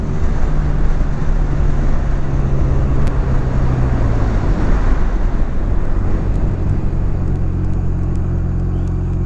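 A Honda Rebel 250 motorcycle cruising along back roads gives a steady, loud engine drone, heavily mixed with rushing wind buffeting the microphone, with no talking.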